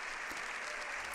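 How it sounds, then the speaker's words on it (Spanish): Long, sustained applause from the deputies of the Spanish Parliament in Madrid greets Pope Leo XIV after his speech. Dense, even clapping fills the whole stretch without pause, steady and fairly distant. "Nuevamente se repite con más efusión el aplauso, largo aplauso al Papa León XIV en este discurso impecable"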